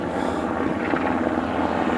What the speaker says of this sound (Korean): 헬리콥터도 가네.